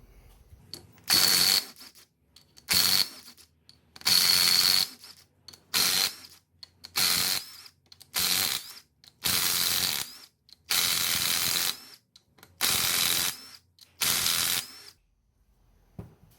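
Ring gear bolts on a B series transmission differential loosened one after another: about ten separate bursts of loud clattering ratchet or impact-tool rattle, each a second or so long, with short quiet gaps between them.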